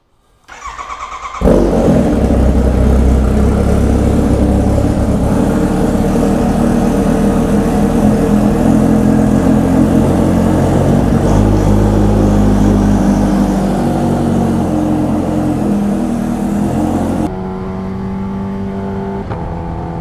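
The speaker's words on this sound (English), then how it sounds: "Last H2R cold start in the OG garage, guys." A Kawasaki Ninja H2R supercharged motorcycle fires up from cold inside a garage, its engine roaring loud and close for a steady stretch, then dropping abruptly to a lower, settled idle near the end.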